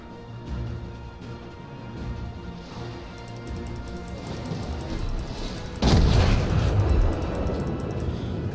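Warship guns firing in the naval battle game World of Warships, a heavy booming salvo near the middle over a steady low rumble of engine and ambient noise.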